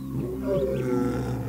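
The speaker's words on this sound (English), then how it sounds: "exploring the use of a lion's roar as a sound boundary to keep lions as well as wild dogs away from fenced farming areas" A lion roars in the Kalahari grasslands, one deep, loud, close roar with a rough throaty rumble that swells and then fades, heard alone without talk.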